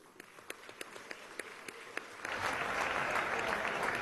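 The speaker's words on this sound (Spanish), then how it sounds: "Pido un aplauso para él." Applause in a session of Venezuela's National Assembly, starting as a few isolated, rhythmic claps that swell into a dense, sustained round of clapping across the chamber.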